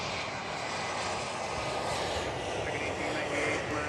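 An Embraer 175 jet at Miami Airport gives off a steady distant engine roar, faint and continuous, with people talking over it.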